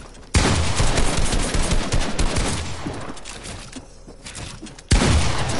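Rapid automatic gunfire fills a PS4 shooter match, loud and close. A sustained fusillade is broken by brief pauses, with no speech over it.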